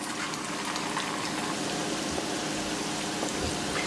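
Kodubale dough rings, made with curd, frying in hot oil produce a steady, dense sizzle and bubbling crackle throughout, close and continuous with small pops and no voices.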